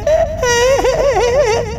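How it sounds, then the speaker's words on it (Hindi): Wailing, sobbing cry of a ghostly presence in a horror story at night, a wavering high-pitched moan rising and falling continuously for about two seconds, loud and close with no other sound. "फिर से रोने की आवाज आने लगी।"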